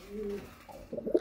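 A prized cross-bred domestic pigeon gives a soft, low coo at close range, one drawn-out note followed by a quick burst of short throaty pulses, quiet and alone.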